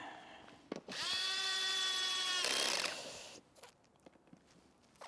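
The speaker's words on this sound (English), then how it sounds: "electric screwdrivers, make sure you haven't got it cranked up too far, because we're screwing into plastic" An electric screwdriver drives a screw into the plastic bodywork of a Yamaha MT-07 motorcycle: one steady motor whine lasting about two seconds, close and clear, with a few handling clicks before and after and no talk.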